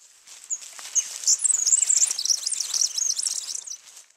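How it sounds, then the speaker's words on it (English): Wren song at dawn, a high warbled trill rising and tumbling for about three seconds, fairly close and clear over a quiet background. "A sort of warbled trill, you might say."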